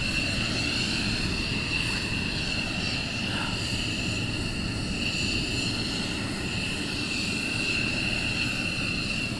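A military jet taxis at RAF Lakenheath, a steady loud engine roar and whine that holds level throughout with no pause.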